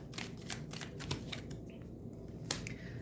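Tarot cards are shuffled and drawn close by, a soft papery riffling broken by quick flicks and snaps as cards are pulled, with a sharp snap near the end.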